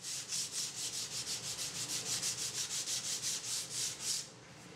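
Hand sanding the edge of a wooden end grain cutting board, a steady run of about eighteen rhythmic rasping strokes, close and fairly loud, stopping near the end.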